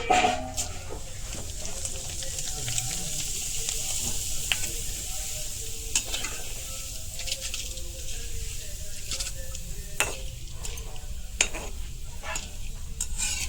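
Flattened rice (chira) frying in oil in a pan over medium heat, added a little at a time: a constant soft sizzling hiss with scattered stirring clicks and scrapes throughout.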